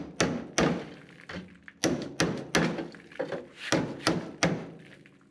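A hammer strikes a metal body panel on a 1960 VW Beetle in about a dozen close, heavy thuds with an uneven rhythm, loud and dull with short ringing tails, and no talking.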